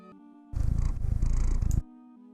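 A domestic cat purrs close up in a quiet room, a steady rumbling purr lasting just over a second over faint background hum, with no voices.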